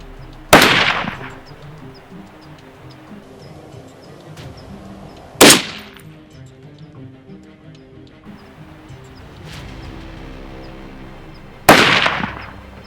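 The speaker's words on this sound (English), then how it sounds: "let's see if that makes any sort of a difference, and let's do some shooting." Four sharp, loud .308 bolt-action rifle shots ring out one at a time with long gaps between them, each crack followed by a brief decaying echo over an outdoor background.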